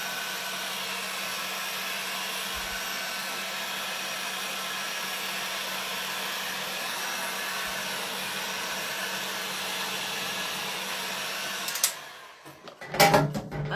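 A heat tool blows a steady, loud whoosh for about twelve seconds while drying stencil paint, then cuts off, followed by a few brief handling clatters.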